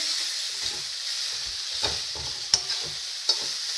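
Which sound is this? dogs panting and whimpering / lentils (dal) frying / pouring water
lentils (dal) frying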